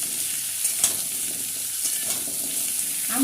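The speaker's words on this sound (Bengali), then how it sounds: "আমগুলো দিয়ে এবার হাই ফ্লেমে রেখে ভালো করে নেড়ে মিশিয়ে নেব।" Cut mango pieces fry and get stirred in a pan over high flame for a sweet-sour-spicy mango pickle, a steady close sizzle with occasional scrapes of the spoon and no voices.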